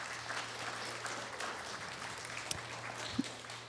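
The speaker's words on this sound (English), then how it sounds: "Let's give them all a round of applause." An audience at an eighth grade graduation ceremony at Salem Middle School claps in steady, moderately loud applause, a dense even patter with a couple of sharper individual claps near the end.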